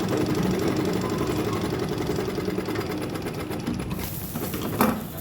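A sewing machine runs steadily while double-stitching a small fabric purse, a close, even rapid whirring and needle chatter that continues without a break and swells slightly near the end.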